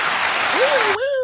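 A podcast audience claps briefly for comedian Chad Hays, a short burst of clapping with a voice rising over it before it cuts off.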